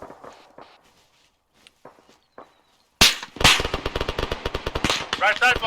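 Gunfire coming from a bunker in a military simulation game, a long rapid automatic burst of close, loud shots that starts abruptly after quiet shuffling footsteps.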